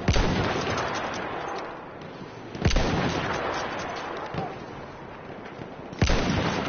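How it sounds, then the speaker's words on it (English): Gunfire in the Battlefield 1 video game: a steady dense crackle of shots with three sharp, louder bursts standing out, the nearest and loudest at the start and end, all under a constant battlefield din. "Somebody's shooting at me, and I can't pinpoint where they're at because they're not using a sniper."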